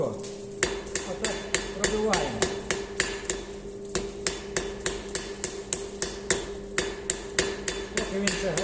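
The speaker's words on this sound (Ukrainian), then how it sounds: "Нагрів і тепер оцим носочком гострим молотка по краєчку тут." Rapid, regular hammer blows ring out on hot metal being forged into leaves with the hammer's sharp peen, a steady series of sharp metallic strikes close by, with a faint hum beneath.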